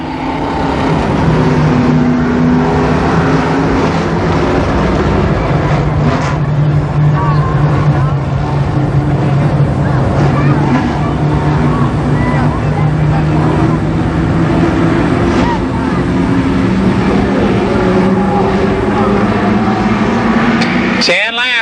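Late model race cars circling Columbus Motor Speedway during the 1991 Fall Speedfest, a steady loud engine drone with sustained harmonic tones throughout, blended with crowd and public-address noise.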